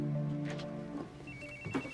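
A mobile phone rings in a scene from the TV series Dexter, with a steady electronic ringtone tone that then fades, followed by brief higher chirps near the end.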